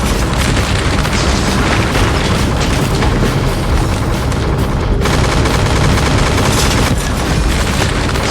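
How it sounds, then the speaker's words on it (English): Intense gunfire from drones pours down in a relentless movie barrage, loud, dense bursts and booms that continue without a break. "2 drones screeched overhead. Their infrared thermal imaging quickly detected the woman inside the house, followed by a barrage of intense gunfire."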